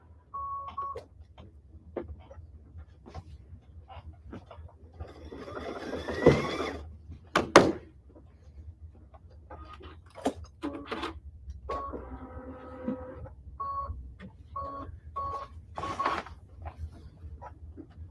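A Brother embroidery machine beeps, then runs in bursts of whirring, rapid mechanical stitching with pauses between, close up and moderately loud, with no talking.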